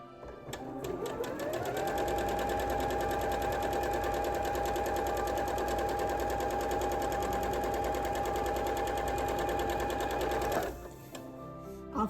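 Sewing machine stitching quilt block pieces along seam tape to a point: one long, steady, loud mechanical whir with a fast regular tick, running continuously for about ten seconds before stopping abruptly.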